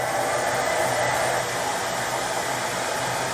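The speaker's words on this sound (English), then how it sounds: "If you do plan to use a hairdryer, do it from very far away, something like this." A hair dryer on low setting blows steadily with a constant whooshing hiss that cuts off abruptly at the end, no talking.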